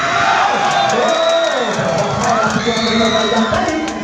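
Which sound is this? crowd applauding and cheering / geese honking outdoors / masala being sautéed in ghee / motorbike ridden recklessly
crowd applauding and cheering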